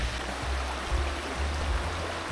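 Water of a stream flows steadily with a broad rushing wash and low rumble, constant and fairly loud throughout, with no voices, during rain.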